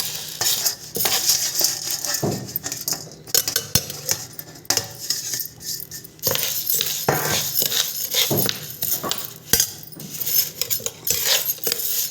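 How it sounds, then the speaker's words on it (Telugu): Toor dal is dry-roasted and stirred in a pan while making a spiced lentil powder. A spoon scrapes and clinks against the metal pan in irregular bursts, with the grains rattling and a faint sizzle behind them, close and fairly loud. "ఇప్పుడు కందిపప్పు వేస్తున్నాను వేయించడానికి"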